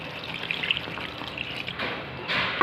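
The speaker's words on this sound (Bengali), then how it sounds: "এবার আমি একটু জল দিয়ে দেব" Water poured into a cooking pot for a Bengali curd, fenugreek and chhana bara dish, a steady close splashing trickle that swells louder toward the end, with no voices.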